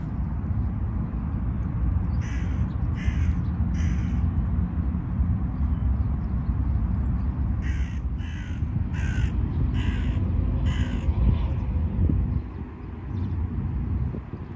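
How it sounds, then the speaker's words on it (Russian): A ragged crow caws outdoors during a relaxed walk, two bursts of repeated harsh calls with three then four caws, moderately near, over steady wind rumble. "Ворона ободранная такая прилетела."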